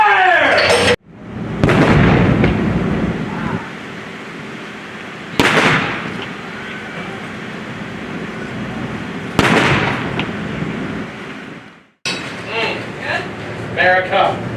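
Cannon fire aboard USS Constitution during a cruise: a few loud, booming blasts spaced several seconds apart, each trailing into a long rumble, with voices shouting around them.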